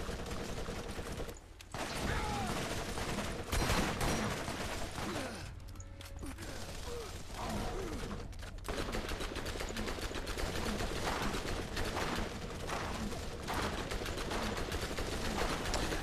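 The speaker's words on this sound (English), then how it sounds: "That fire is insanely fast for a pistol, dude. It's just a stream of bullets." Rapid pistol fire in the video game Borderlands, a dense near-continuous stream of shots, loud and close, with game mechanism sounds and no one talking over it.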